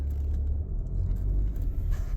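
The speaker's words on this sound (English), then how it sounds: "I'm going to drive forward into the shade." An Audi A4 2.0 TDI S line Quattro with a six-speed gearbox creeps forward, a low diesel rumble and soft road noise heard close up from inside, brief and steady without talk.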